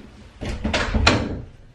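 A door swings shut in a quick rustling, thudding burst lasting about a second, close by in a quiet room during a casual girls' weekend vlog.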